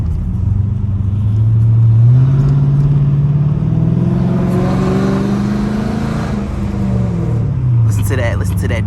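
A straight-piped Dodge Charger R/T engine revving loudly up and down, its deep growling rumble rising and falling up close, with a short sharp burst near the end.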